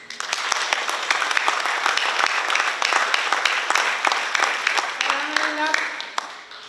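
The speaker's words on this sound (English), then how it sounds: "May I ask that we give PACMED a huge round of applause and gratitude." Audience applause at the Pohnpei PACMED program graduation ceremony, a steady dense wash of clapping from a large crowd that holds throughout, with a voice rising over it near the end.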